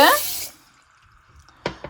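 Water is poured over urad dal in a kitchen to set it soaking: a short, loud gush at the start, then near silence and a couple of faint knocks near the end.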